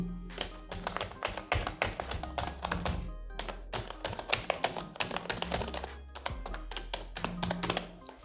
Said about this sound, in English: it is not actually a mechanical keyboard, but if you type on the keys, just listen this